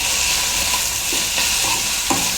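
Okra and onion bhujia with chilli and salt being mixed in a hot pan: a loud, continuous close sizzle with a few soft spatula scrapes.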